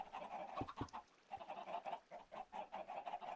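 Chickens crowded in a Minecraft chicken farm cluck and squawk in a continuous, busy chorus, heard quietly with no voices.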